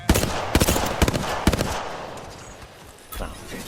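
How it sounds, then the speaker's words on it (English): Gunfire in Apex Legends: several sharp, close bursts of rapid shots in quick succession, then a fading rumble and a lone later crack. "Getting shot at."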